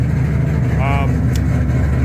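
Ford GT500 with a 3-valve engine running rich, idling loud and close with a steady low rumble and brief throttle blips, a voice talking over it.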